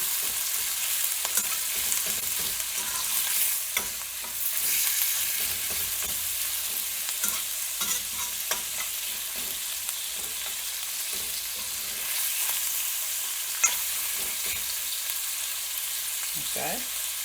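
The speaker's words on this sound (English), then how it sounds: "We're gonna let the onion soften just a little bit" Onion softens in hot oil in a pot, giving a continuous sizzle with scraping stir strokes throughout, during cooking for a Haitian corn meal, bean sauce and vegetable dish.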